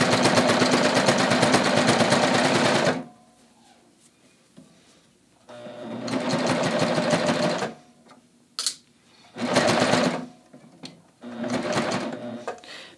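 Serger sewing machine stitching a garment neckline, close and loud in several bursts, a long run at the start, then shorter runs with quiet pauses and small clicks between them.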